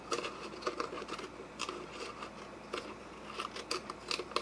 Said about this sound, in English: Just going to cut it off.